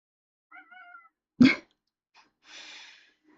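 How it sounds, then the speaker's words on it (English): A cat right beside the listener gives a short, faint, breathy meow, followed by a sharp sneeze-like snort and a soft huffing breath, close and isolated in a quiet room. "I hear a kitty cat right next to me"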